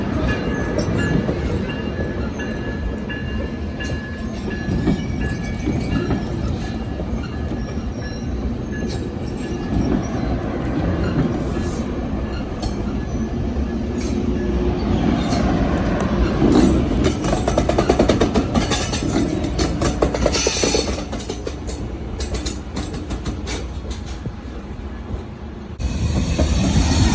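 A Coaster commuter train bound for San Diego rumbles past near Oceanside with continuous heavy rolling noise, wheel clatter and occasional squeal, loud and close throughout.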